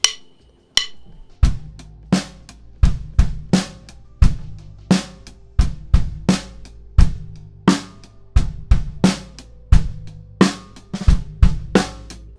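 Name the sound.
drum kit groove played after removing practice pad from snare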